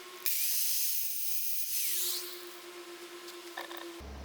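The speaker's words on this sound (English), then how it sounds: "I'm going in with the angle grinder and cutting them at this second notch so that they're the right length" Angle grinder cutting screws down to length for a lock on a bus conversion door: a loud, steady high-pitched grinding whine that starts sharply, holds for about two seconds, then fades to a lower hum before stopping, with no talking.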